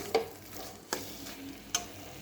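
Spice paste for ghugni frying in oil with a steady low sizzle, broken by three sharp scraping knocks of a spoon stirring against the pan at roughly even intervals, close and moderately loud, with no voices.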